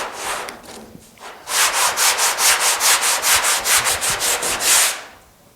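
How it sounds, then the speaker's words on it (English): Rhythmic sanding strokes on a steel car fender, a rapid series of loud, scratchy rubs in even succession, close by, with quieter scraping at the start. "I'm going to keep sanding on it"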